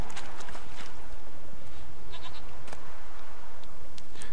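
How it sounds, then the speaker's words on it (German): A goat bleats in The Witcher 3: Wild Hunt among noisy, bustling background sound, with brief wavering cries over a dense wash of ambience. "Da hat es eine Ziege noch erwischt"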